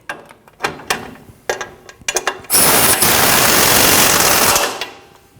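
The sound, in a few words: tightening the bottom strut bolt on a Nissan NV2500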